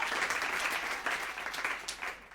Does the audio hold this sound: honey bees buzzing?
no